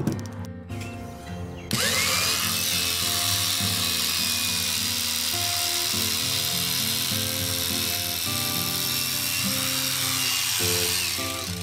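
A cattle clipper runs during a blade tension check. After a brief rattle it starts with a rising whine, then holds a steady, close, high-pitched mechanical buzz for about ten seconds, with no talking.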